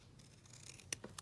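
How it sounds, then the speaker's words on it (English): Scissors press and crease a paper napkin in faint, soft crunching with a couple of sharper clicks near the end, close by and without talk. "Squish this with my scissors."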